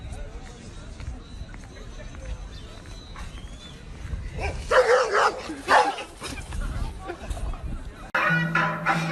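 Several dogs bark in a quick burst of yips and woofs, fairly close, with people talking loudly around them.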